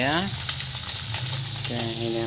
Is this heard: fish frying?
yes